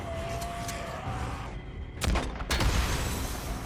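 A pipe bomb explodes in the Days Gone video game, with a loud boom and a second burst of blast noise about halfway through, set against continuous game ambience and no talk.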